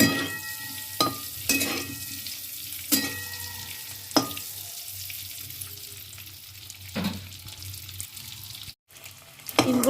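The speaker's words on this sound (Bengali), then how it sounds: "ডিমগুলোকে আমি লাল লাল করে একটু ভেজে নেব।" Eggs fry in leftover potato-frying oil for a spicy dhaba-style egg curry, a steady close sizzle broken by sharp stirring scrapes and clatters of the spatula, with a brief dropout near the end.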